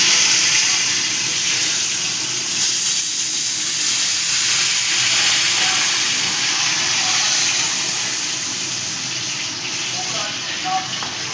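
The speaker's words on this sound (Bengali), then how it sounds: "এখানে মাছগুলো আমি উল্টে দেবো আর ভাজা হয়ে গেছে" Pieces of katla fish fry in hot oil in a pan, giving a steady broad hiss and sizzle that eases off slightly toward the end.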